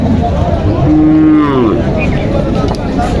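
A single drawn-out bullock moo rises and falls in the middle, with a noisy outdoor background of a crowded cattle market in Panchbibi around it.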